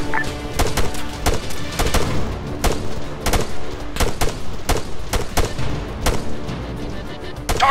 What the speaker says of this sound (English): Kerry, engage that machine gunner, front.